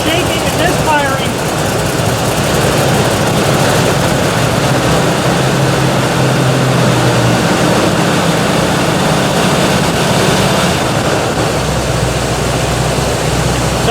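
A cold Buick engine idles roughly and misfires, a loud, continuous low rumble with uneven shaking that carries on throughout with no break.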